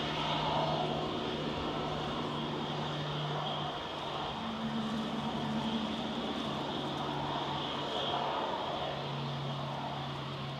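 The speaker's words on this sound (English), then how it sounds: "This is KLM coming in from Amsterdam, operated by Eastern Airways. Embraer E190." KLM Embraer E190 airliner operated by Eastern Airways, landing at Manchester Airport from Amsterdam: a steady, moderately distant jet engine drone with a constant whine, heard alone.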